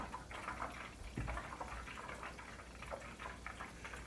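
Butter simmering into ghee in a pan, a faint, continuous bubbling and sputtering with small pops, like a babbling brook, close and soft.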